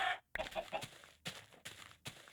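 Minecraft chickens cluck in a few short bursts, with a couple of brief pauses between them.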